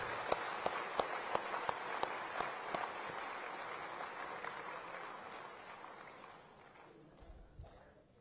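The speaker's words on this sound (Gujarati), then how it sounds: "એકવાર ત્રણેય મિત્રોને ખૂબ જોરદાર તાળીઓથી વધાવીએ અને શુભેચ્છાઓ આપીએ" An audience applauds at an award ceremony, a dense wash of clapping with a few sharp individual claps standing out early, gradually thinning and fading toward the end.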